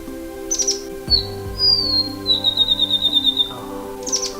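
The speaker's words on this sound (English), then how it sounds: "That's the yellowhead, the Mohua" A yellowhead (mohua) calls on Ulva Island, giving a close series of bright, high chirps and a rapid run of repeated whistled notes over a faint background hum.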